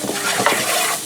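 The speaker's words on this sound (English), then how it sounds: "Add my garlic so it can cook with the curry" Garlic frying with curry in a pan for Jamaican curried chicken, a short burst of sizzling with a quick stirring scrape.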